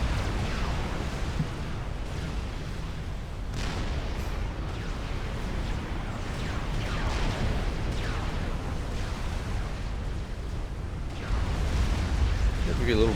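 Battleships and Tempest units trade explosions and artillery fire in the strategy game Supreme Commander: Forged Alliance, in a dense, continuous barrage of rumbling booms and blasts with no pause.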